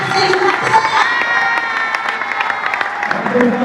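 Audience at a digital training event claps and cheers loudly, with whoops and shouting voices rising over a steady bed of applause and crowd noise throughout.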